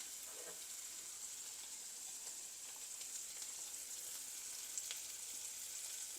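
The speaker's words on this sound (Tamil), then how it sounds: "கொஞ்சம் வெங்காயம் வதங்குது கொஞ்சம் வதங்கட்டும்" Onions sautéing in a pan for a soya curry give off a soft, steady sizzle and hiss, faint and continuous with a few tiny crackles, no talk over it.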